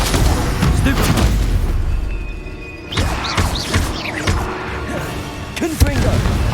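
Confringo spell blasts in Hogwarts Legacy: heavy booming impacts and crashing combat noise, loud and continuous, with a voice calling out over the chaos.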